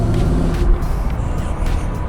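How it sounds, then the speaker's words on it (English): A high-mileage Mercedes AMG V8 car, 218k miles, engine running with a loud steady low rumble and throaty idle, close up, without talk. "So the car is running and driving."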